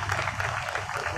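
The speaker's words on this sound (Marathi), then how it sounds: "जोरदार टाळ्यांचा गजर सर्व विद्यार्थ्यांसाठी." An audience gives loud, steady applause for students at a school awards ceremony, dense clapping that fills the whole moment.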